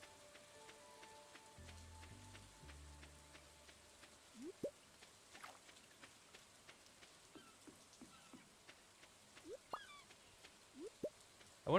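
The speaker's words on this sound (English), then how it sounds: "I wonder if it's only telling me that because it's raining." Rain in the game Stardew Valley Expanded: a soft, steady patter of raindrops, faint and continuous, with a few brief chimes and game blips over it and no speech.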